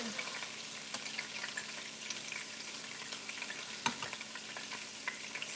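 Oxtails searing in a pan as a stewed oxtail dish begins, giving a steady, moderate sizzle with scattered crackles, a sharp pop near the end, and occasional scraping of a utensil.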